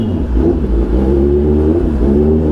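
Kawasaki ZX10R superbike fitted with an aftermarket exhaust revs loudly and close, a deep steady engine drone rising and falling in pitch over a couple of seconds, with no talk.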